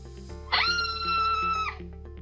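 A single sustained scream with a strong harmonic stack, lasting just over a second, is played back loud and clear for a security camera's sound classification demo over a steady low background hum.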